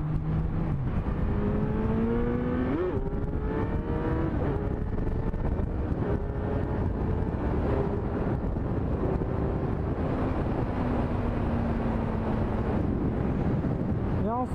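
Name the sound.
motorcycle riding at speed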